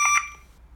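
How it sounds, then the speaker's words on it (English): A multi-port anti-theft security display alarm for phone retail emits a short, piercing electronic tone, a loud close beep cut off abruptly after a fraction of a second. "if anyone try to unplug this cable, it will trigger the alarm"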